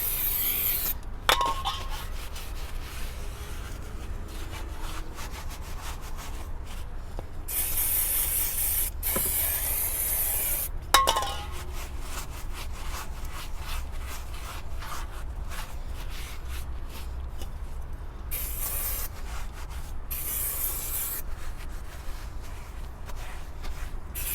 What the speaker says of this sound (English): clean up the disc. With a bit of brake cleaner.